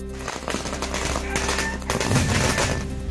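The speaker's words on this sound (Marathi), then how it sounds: "हर्षवर्धन पाटलांच्या निवासस्थानाबाहेर समर्थकांकडून फटाक्यांची आतषबाजी." Rapid bursts of celebratory firecrackers outside a politician's residence crackle and pop in dense succession, loud and continuous like a string going off.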